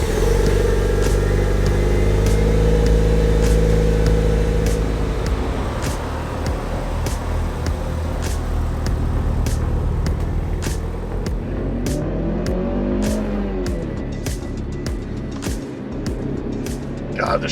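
Mitsubishi Evo 9 MR Grand Touring Edition with a manual transmission pulls away, engine rising and falling through gear changes under clicks and movement noise, with people talking over it.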